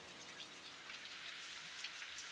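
Rain pouring down at a rocky cave-like tourist spot in Odisha, a dense bright hiss of many drops with scattered louder spatters, steady and moderately close, no voices.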